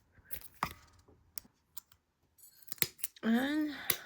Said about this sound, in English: Just take your scissors, like my fun little baddie scissors, and cut some paper bits.